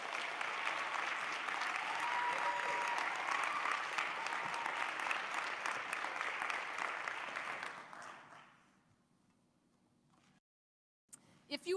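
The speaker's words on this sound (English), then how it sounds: "Another round of applause for all of you." A crowd applauds at a university social work commencement ceremony, dense sustained clapping for about eight seconds that then fades quickly into near silence, followed by a faint brief tone and a couple of small knocks.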